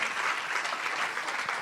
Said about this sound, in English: how about we get a big round of applause for these 2 amazing players?